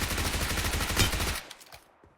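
Rapid gunfire in a video game, a dense burst of close, loud shots that stops abruptly, followed by a few faint scattered pops as things go quiet.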